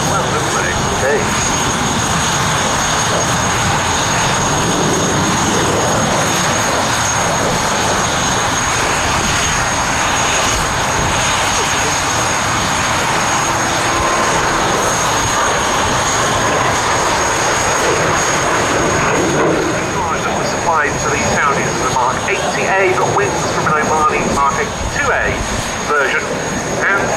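A BAC Strikemaster jet performs an air show display roll, its engine roar loud and continuous throughout, with a commentator talking over it.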